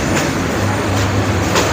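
A passenger train runs steadily on the rails on a journey near Sreemangal, Sylhet. The rumble and clatter of the carriage come through continuously and loudly from close inside the cabin, with faint rhythmic wheel clicks.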